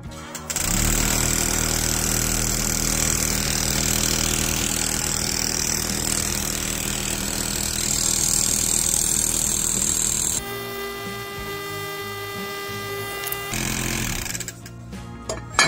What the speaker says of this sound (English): it definitely hammers up and down, as you can see, it's jumping.